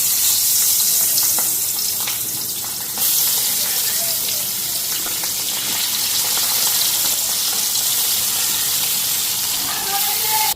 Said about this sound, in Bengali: এখন মাছগুলি ভাজা নিই।